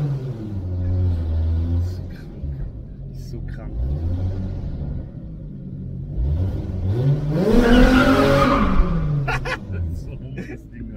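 A naturally aspirated car, a VR6 or a Honda Civic, revs inside an echoing hall. The engine rumbles and climbs in a loud rising sweep over steady German talk.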